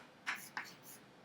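Two quick, faint strokes of a marker or chalk on a board while a molecular formula is written in a chemistry lesson, short scratchy taps in a quiet room.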